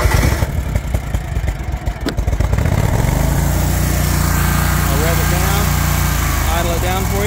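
A 60-inch Hustler X-ONE commercial zero-turn riding mower engine is choked and started. It cranks unevenly for a couple of seconds, then catches and settles into a loud, steady close-up idle, with a voice briefly heard at the start.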